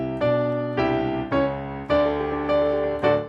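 A piano strikes six ringing chords one after another, each held and decaying before the next, closing out the slow intro of the hymn "Victory in Jesus".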